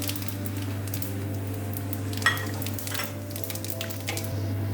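Dry red chillies, bay leaf, cumin seeds and whole garam masala sizzling in hot oil for a Bengali dish, a soft, even crackle with an occasional small pop, close and steady under a low hum.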